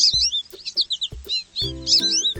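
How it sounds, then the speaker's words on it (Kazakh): A cartoon blue sparrow flies out of a blue birdhouse with a burst of quick, high, bright chirps and tweets, broken by short soft thumps, close and clear. "Көк үйшіктің ішінен көк торғай ұшып шықты."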